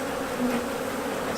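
Honey bees buzzing around a beehive, a dense steady drone of many wings, loud and close, continuous for the whole moment with no talk.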